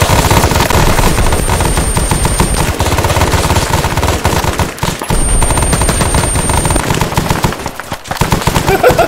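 Sustained machine gun fire in Arma 3 with the SOG Prairie Fire setting, a loud, near, continuous rattling stream broken by a couple of brief pauses, with a faint high whine and helicopter-like rumble beneath and no talk.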